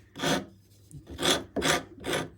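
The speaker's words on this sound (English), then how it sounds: "Let's try the big rasp this time" Big wood rasp shaping a timber guitar neck: four coarse, rasping strokes in a steady back-and-forth rhythm, close and fairly loud, with no voices.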